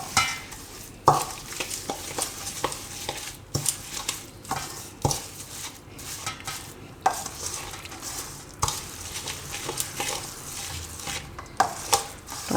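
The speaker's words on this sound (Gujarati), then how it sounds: "હવે આ બધું આપણે મિક્સ કરી લેવું. એટલે દહીંમાં ગોળ નાખીએ એટલે ઓગળી જાય એકદમ સરસ." A spoon stirs jaggery and spices into yogurt in a bowl, giving repeated close scraping and tapping strokes in an uneven rhythm with soft wet mixing between them.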